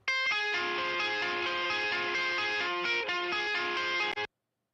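Clean electric guitar tone from the Pod Farm amp simulator for a cover, sustained chiming chords ringing steadily for about four seconds, then cutting off into silence, faint and with no talking.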